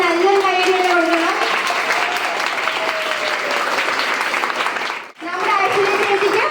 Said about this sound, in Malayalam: എല്ലാവരും നല്ലൊരു കൈയടി കൊടുക്കണം.